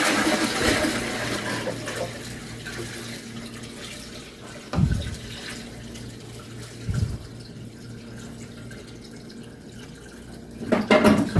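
Water is poured into a home fish tank while it is being cleaned, giving a continuous running, splashing flow with a few louder surges and sloshes, close by and without talking.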